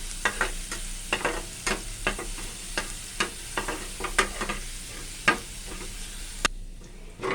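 Chopped garlic frying in a pan until golden, a steady crackling sizzle broken by repeated scrapes and clicks of stirring, close and alone, cutting off abruptly near the end.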